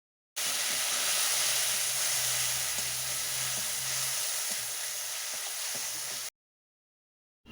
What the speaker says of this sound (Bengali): জল দিয়ে ভালোভাবে মশলা কষে নেব।